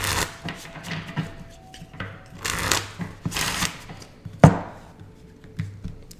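Cards riffle and slap together in several quick bursts, with soft handling clicks between them and one sharp tap near the end.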